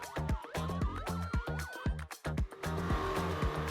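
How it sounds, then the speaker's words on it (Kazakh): A fire engine drives past with a rising and falling siren over a pulsing, rumbling engine, loud and close throughout the few seconds. "Өрт сөндіру көлігі."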